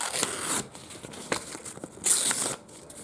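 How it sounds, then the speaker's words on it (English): Thick wallpaper sample being torn in several short, crisp rips with brief pauses between them, close up, with a longer louder tear near the end. "Try to hear the sound and try to figure out how thick the paper is. So I'm tearing it."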